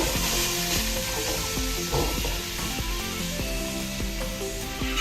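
Cucumber pieces and tomato fry in a pan, giving a steady, close sizzle with the scrape and knock of stirring throughout and no talk.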